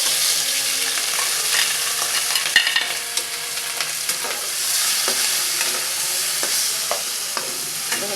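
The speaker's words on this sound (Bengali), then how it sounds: "মাছটা একটু ভেজে নেব তেলের পর।" Prawns fry in mustard oil with turmeric, giving a loud, steady hiss of hot oil broken by scattered pops and spatters, close and without talk.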